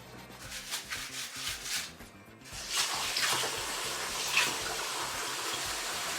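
Water running from a tap onto a double layer of stretch foil laid out for a mince meat roll, first a rhythmic rubbing and splashing, then a steady close hiss of flowing water with no talk.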